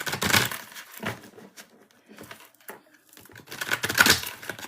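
Tarot cards being shuffled by hand, giving bursts of crisp papery riffling and flicking that come and go over a few seconds, loud and close with no talk.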